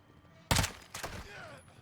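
Two loud gunfire bursts in Call of Duty: Modern Warfare II, a sharp blast followed by a second shot about half a second later, with faint radio-like chatter trailing after.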